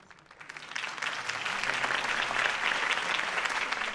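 Applause from a crowd at a campaign speech in a Batman video game swells up over the first second and then holds steady, dense clapping that fills the space without voices on top.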